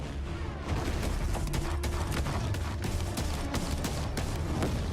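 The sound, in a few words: gunfire in video game Battlefield 1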